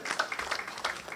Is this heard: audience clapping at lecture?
yes